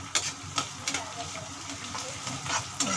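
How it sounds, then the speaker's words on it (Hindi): Green chillies dropped into hot oil for a kadhi tempering, giving a soft continuous sizzle with a few light stirring clicks, quiet and close-up. "अब मैं तड़के में हरी मिर्च डाल रही हूँ।"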